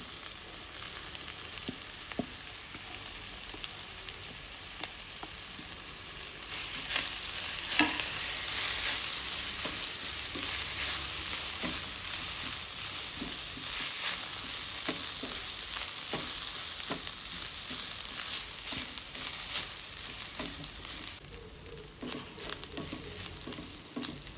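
Chicken xacuti masala sizzles in a pan, a steady frying hiss with repeated stirring scrapes, growing louder for a while and then easing toward the end.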